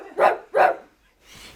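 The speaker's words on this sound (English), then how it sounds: "his neighbor's dog came out of nowhere and lunged at me." A large German Shepherd and Bull Mastiff cross barks twice in quick sharp bursts close by, followed by a softer rustle.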